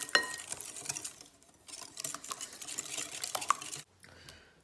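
Egg yolks, sugar and a pinch of salt being stirred together in a bowl, with a steady clatter and scrape of utensil against the bowl, close and continuous, ending abruptly.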